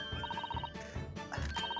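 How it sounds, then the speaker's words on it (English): A telephone rings in the video game The Great Ace Attorney 2, a repeating electronic trill in short pulsed bursts, fairly faint, with brief pauses between rings. "Does anybody hear that phone?"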